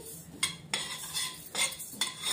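Drumstick pieces stirred while frying in a pan for a pickle, giving several sharp utensil scrapes and clinks against the metal, close and moderately loud over a faint background.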